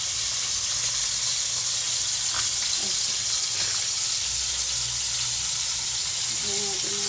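Steak searing in a pan with butter, a steady broadband sizzle that holds throughout at close range, with brief clinks and soft knocks of utensils mixed in.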